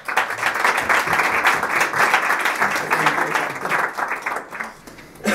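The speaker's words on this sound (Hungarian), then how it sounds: "szeretettel köszöntsétek és nagy tapsal, Manherz József!" At a public speaking and rhetoric training event, an audience claps loudly and continuously to welcome a speaker. The dense, steady applause fades briefly near the end.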